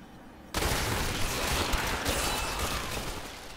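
Demon Hunter Strafe skill in Diablo 3, starting abruptly after a quiet moment and then a sustained loud barrage of rapid-fire shots and impacts churning on without pause.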